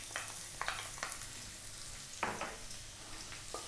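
Garlic sautéing in cooking oil in a hot wok gives a quiet, steady sizzle broken by a few sharp crackles and light stirring scrapes, close and faint.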